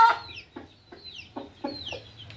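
A hen lets out a few short, shrill squawks and clucks in quick bursts, fairly close, with quiet gaps between them.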